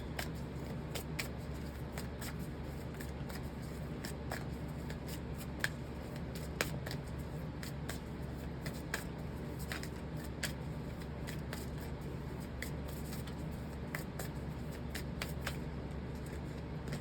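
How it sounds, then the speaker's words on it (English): Oracle cards from a numerology deck are shuffled in a quiet room, a continuous soft riffling with rapid repeated flicks throughout, faint and close with no talking. "this is my numerology deck, so I'm gonna take some oracle cards"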